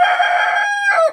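A Kadaknath black rooster crows once, loud and close, in a single sustained call that rises and then breaks off at the end, with no voices around it.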